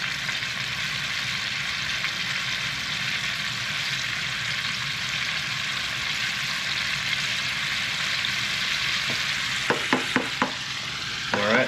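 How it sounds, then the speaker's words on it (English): Fish from a Florida Keys reef trip frying in a deep fryer, a steady, close, loud bubbling sizzle that runs unbroken throughout, with a few sharp clinks near the end and no talking. "First batch is in the fryer."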